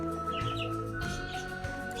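Parrots chirping and tweeting in quick, overlapping calls over a steady tonal hum, close and fairly loud.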